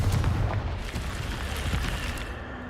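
A Confringo fire spell blast goes off in the Hogwarts Legacy video game, a dense, rumbling explosion that sustains a loud, noisy roar for the whole stretch with heavy low-end thumps at the start.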